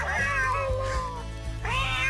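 Cats meow in a song recording, two long pitched meows that bend and slide like a sung melody over a low background.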